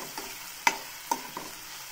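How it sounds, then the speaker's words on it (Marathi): Tomatoes being sautéed in a pan for mushroom masala, a few soft scraping stirs of a spoon against the pan over a faint background sizzle, close and sparse. "ते पण छान मस्त असं भाजून घ्यायचं टोमॅटो पण"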